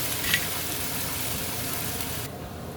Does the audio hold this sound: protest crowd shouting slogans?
no